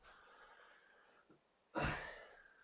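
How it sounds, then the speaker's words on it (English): A nose gives a soft nasal whistle on a slow breath in during a yoga-style movement session, followed by a single louder, sharp sniff or exhale burst near the end. "my nose makes this sound every time I breathe in"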